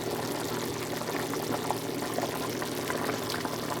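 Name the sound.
pot of water boiling pasta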